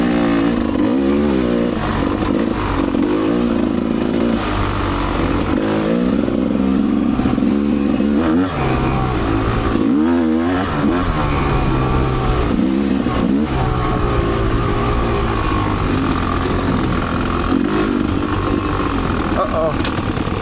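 Two-stroke Rieju MR Pro or Gas Gas EC300 dirt bike engine on a Michigan A loop trail ride, revving and surging continuously close by, loud throughout with rising and falling pitch as the throttle changes.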